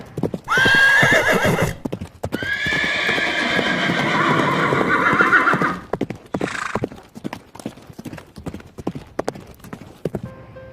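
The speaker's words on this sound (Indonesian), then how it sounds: "ternyata Nando naik kuda anak-anak" A horse whinnies loudly twice, with scattered hoof clip-clops and clatter between and after the calls.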